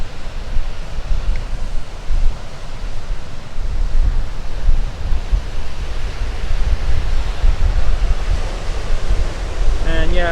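Rough ocean surf at Makapu'u beach, Hawaii, roars as a continuous loud wash, with heavy wind buffeting the microphone throughout.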